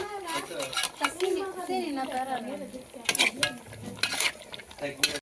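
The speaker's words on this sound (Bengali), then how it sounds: "এই যে আলু আর মাংসটাকে একসাথে নাড়াচাড়া করে কষিয়ে তারপর ঝোল দিয়ে দেবে" Beef and potatoes stirred and fried together in a pan, with a soft sizzle and scraping utensil clinks against the pan under someone speaking throughout.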